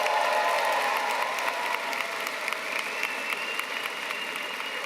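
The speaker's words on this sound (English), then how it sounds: "you're going to get the biggest round of applause now" A large audience at a Faculty of Engineering graduation ceremony claps steadily for a graduate, a continuous, even wash of applause with no speech.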